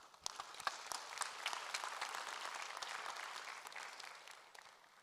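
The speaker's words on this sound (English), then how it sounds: "Can we have a round of applause?" A conference audience at a business session breaks into sustained applause, a broad wash of many hands clapping from across the room with a few crisp nearby claps at the start, steady and then easing off.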